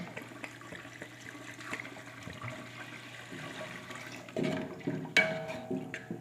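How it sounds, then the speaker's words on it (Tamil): About a liter of water poured into a pot of chicken biryani: a steady wash of liquid that swells louder and splashier toward the end, close by with no talk. "ஒரு ஒரு லிட்டர் தண்ணி ஊற்றிக்கிறேன்"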